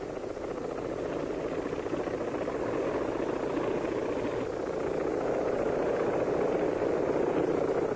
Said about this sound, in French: le Yak-24 ressemble étrangement à un autre hélicoptère américain, en l'occurrence au birotor de Frank Piasecki